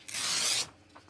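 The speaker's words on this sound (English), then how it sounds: "I might grab my ruler here and just tear down the middle here" Coffee-dyed paper torn down the middle along a ruler: a single close, dry ripping rasp lasting about half a second, then quiet.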